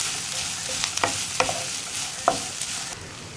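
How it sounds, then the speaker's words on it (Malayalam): Carrot and green gram thoran being stirred in a pan, a soft continuous sizzle with a few distinct scraping taps of the spoon against the pan. "ഇതൊന്ന് ഇളക്കി മിക്സ് ചെയ്യുക"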